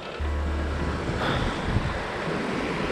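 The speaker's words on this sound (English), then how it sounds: "Sound of running water is pretty awesome." Steady rush of running creek water beside a hiking trail near a footbridge in a Colorado foothills park, a continuous broadband wash heard close and alone, with a brief low rumble early on.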